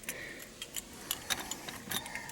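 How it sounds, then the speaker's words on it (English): Keys for an old Oldsmobile jingling in short, light metallic bursts, faint and close, in a quiet garage. "I hate these keys."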